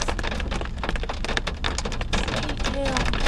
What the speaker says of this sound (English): See, hail.